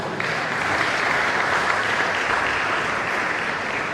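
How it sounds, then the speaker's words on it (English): Audience applause fills a law week plenary session of a bar association branch in Benin, a dense, steady round of clapping that holds at full strength for about four seconds with no voices over it. "They deserve a round of applause."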